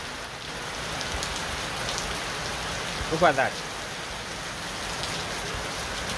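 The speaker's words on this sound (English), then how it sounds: "Just the rainfall is too much." Heavy rain falls steadily on a stadium construction site, a thick constant hiss, with someone speaking briefly near the middle.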